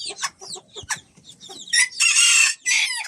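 Hens cluck and chatter briefly in a coop, then a rooster crows loudly and close, a harsh drawn-out call followed by a short second burst.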